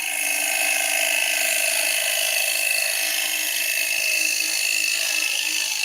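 A bowl gouge cuts wood on a spinning lathe, producing a loud, continuous, bright hissing whir that holds steady throughout with no pauses.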